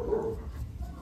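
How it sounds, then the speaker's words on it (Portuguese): A female dog barks indoors, a short muffled bark heard once at moderate distance over a low background rumble. "A minha cachorra tá latindo."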